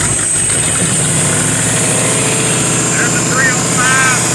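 A fuel-injected 305 V8 in a Chevy LUV pickup truck idles close by with a steady, rumbling throb, its pitch rising slightly near the end.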